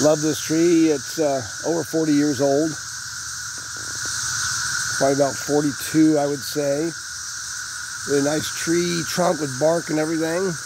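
A constant high, droning chorus of 17-year cicadas fills the background while someone talks over it in the foreground.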